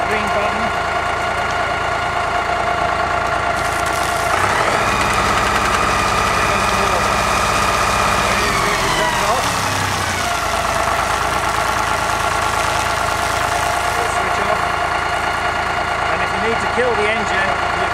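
Kerrick Draintamer drain jetter engine running steadily at a constant mid-pitched drone, with a louder, rougher stretch in the middle, heard up close.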